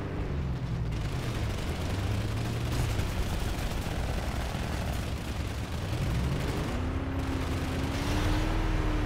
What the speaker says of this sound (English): Oh, there's a reaver shooting us.